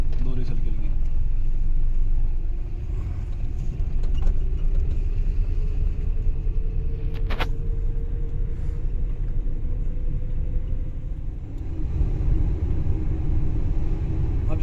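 Car engine during a driving lesson, pulling gently forward with a low, steady rumble and a slowly rising tone, under an instructor's voice.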